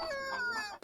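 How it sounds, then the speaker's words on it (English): Chickens cluck in a model railway farm sound scene, a steady, close run of clucking and rising calls over a faint background, ending with a brief cutoff. "Chickens cluck."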